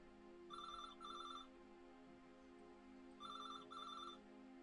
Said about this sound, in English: That was the weirdest phone ring.